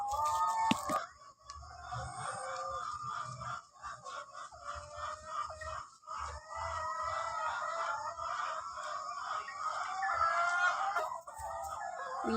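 Farm chickens, including laying hens, cluck and chatter continuously while a rooster crows, a busy mix of nearby fowl calls with faint background knocks.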